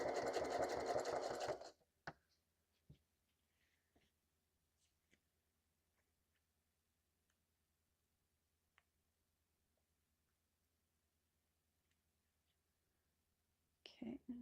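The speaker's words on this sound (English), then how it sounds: "I'm sewing from the front side." A sewing machine stitches through the layers of a handmade junk journal. A loud, fast, even whir runs for about two seconds, then gives way to near silence with faint clicks and handling sounds, and a short burst of stitching returns at the end.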